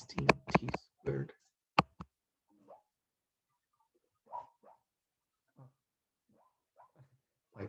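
A sleeping puppy dreaming indoors: a few soft, muffled yips and barks at first, then scattered faint whimpers and squeaks spread over several seconds, with no talking over them.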